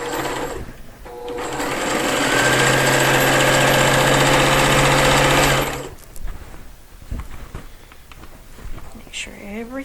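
A sewing machine runs steadily for about five seconds, stitching dimensional lotus petal pieces, a loud close whirring hum that stops abruptly and gives way to quieter handling noises.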